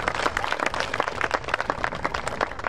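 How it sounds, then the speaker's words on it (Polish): Audience applause welcoming young performers at an outdoor parish festival of St. Albert, a dense, steady crowd clapping that carries on without a break and without any speech. "Przywitajmy brawami."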